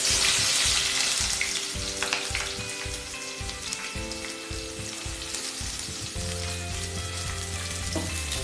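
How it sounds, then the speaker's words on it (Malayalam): Three medium onions frying in coconut oil crackle and sizzle steadily in a pan, with rhythmic stirring scrapes repeating near the start and a constant hiss throughout. "ഞാനിവിടെ ഉപയോഗിക്കുന്നത് വെളിച്ചെണ്ണയാണ്. ആദ്യമായിട്ട് ഒരു 3 മീഡിയം സവാള ഇതിലേക്കിടാം."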